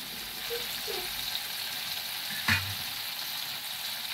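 Sliced banana chips fry in hot oil in a home kitchen, a steady close sizzle and crackle that runs alone throughout, with a brief clink partway.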